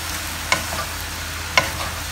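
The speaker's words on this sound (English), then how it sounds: "Stir and mix them up well." Stirring soy sauce into seafood udon noodles in a hot pan, a steady sizzle with two sharp clinks of a utensil against the pan, close and alone.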